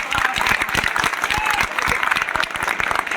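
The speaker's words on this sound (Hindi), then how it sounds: "ये कर्तन ध्वनि, एक बार जोरदार कर्तन ध्वनि।" Applause from an audience at a guest teachers' conference in Ujjain: dense, loud, sustained clapping that carries steadily through the whole short stretch, with a faint crowd murmur underneath.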